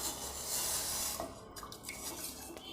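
A dissolved urad dal flour batter being poured into hot water: a short, loud splashing gush at the start that gives way to softer clinks and bubbling.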